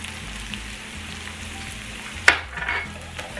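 Eggs mixed with chives and seasonings are beaten for a Spanish omelet; a steady sizzling hiss runs throughout, with one sharp clink near the end and no talk.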